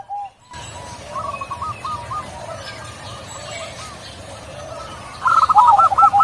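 Doves in an aviary give repeated soft calls and chirps at a moderate distance, with a sharper, louder burst of bird calls toward the end over low background noise.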